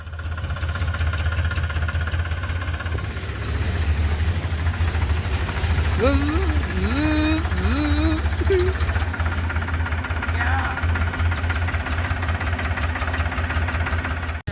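A tractor engine runs steadily throughout with a loud, low knocking idle during sugarcane harvesting, while people talk over it.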